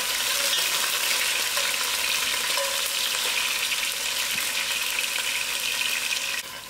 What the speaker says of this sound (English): Now my onions is browning up.